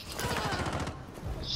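Rapid automatic gunfire in a shooter video game, a short dense burst at moderate level, brief and alone.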